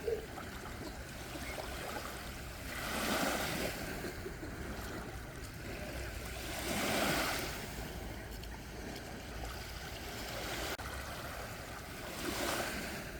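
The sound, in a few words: sea waves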